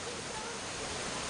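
Water pours steadily into a container at a hillside farm in an Uttarakhand village, a continuous broadband rush like running water, close and fairly loud with no pauses.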